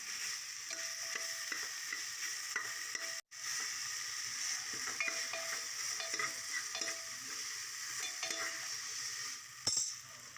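Ginger garlic paste being stirred in a frying pan over a gentle, steady sizzle, with intermittent light scrapes and taps of a spoon, a brief dropout early on and a sharper clatter near the end.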